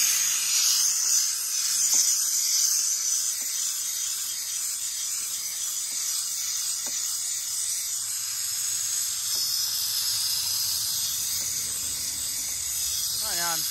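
A steam cleaner blasts steam onto an old corn flaker truck, making a loud, constant hiss that runs throughout, with faint clicks and knocks scattered underneath.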